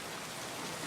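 A brief stretch of heavy, steady rain pattering on surfaces, an unbroken close hiss with no voices.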